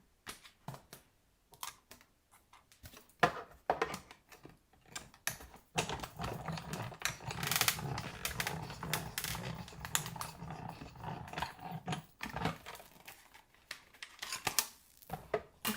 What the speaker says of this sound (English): I think we're done with the die cut machine now